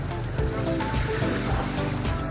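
Steady wash of surf breaking and rolling at Clearwater Beach, Florida, a continuous roar of water with a low rumble underneath, no voices.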